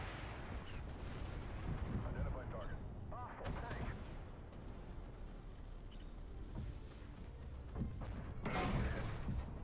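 Rapid gunfire and heavy booming explosions rumble through a tank video game battle, a dense continuous barrage with sharper blasts near the end.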